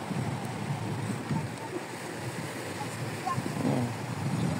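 Ocean waves washing against the rocky shore at Cape D'Aguilar, a continuous broad rush of surf mixed with wind buffeting the microphone, steady and fairly loud.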